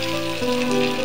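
Tomatoes dropped into hot oil with ginger and garlic, a steady close sizzle and crackle running unbroken throughout with a slight shift as the pieces land.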